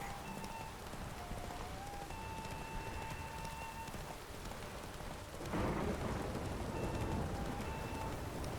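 A thunderstorm in The Witcher 3 video game: steady rain hissing on surfaces with a low rumble of thunder swelling midway, alongside faint tonal game sounds.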